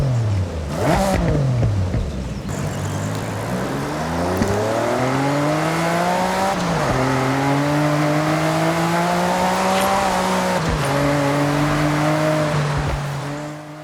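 Porsche 962 CR race car engine in the Forza Horizon 6 video game, loud and close, revving hard through repeated upshifts with rising tones and sharp drops at each gear change, and no talking.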